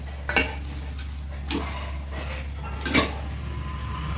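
Methi thepla roasts on a pan with a faint background hum, broken by a few sharp clinks of a utensil against the pan.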